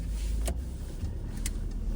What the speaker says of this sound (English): Just waiting for some of these cars to go by.